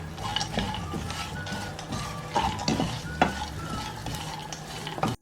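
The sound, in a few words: roasting in a pan on low flame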